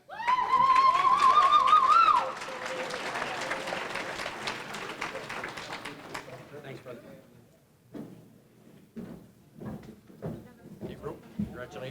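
Audience at a softball hall of fame induction ceremony breaks into loud applause and cheering, with a whistle at first, then the clapping fades into scattered claps while a voice speaks over it.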